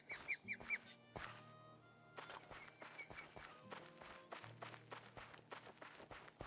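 Birds honk in the Minecraft video game, giving several faint, short goose-like calls among soft footstep clicks and scattered game effects, fairly distant and quiet throughout.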